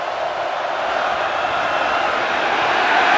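Crowd roar at a college football game in Kentucky's stadium as South Carolina takes the field after an interception, a steady broad wash of thousands of voices swelling slightly louder toward the end.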